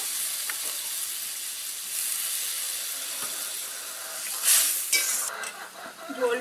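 Fish curry gravy with potatoes bubbles and hisses in a pan right after water is added, a steady close simmer with occasional stirring scrapes and a louder burst of steam near the end.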